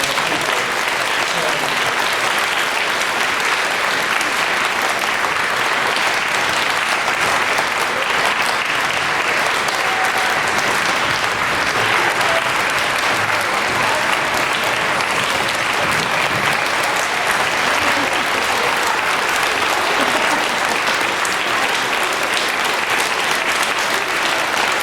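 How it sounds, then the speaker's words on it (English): Kids and parents applaud the teachers at a school Blue Ribbon celebration, a loud, dense, unbroken round of clapping sustained for about twenty-five seconds. "give our teachers a great round of applause for everything that they do"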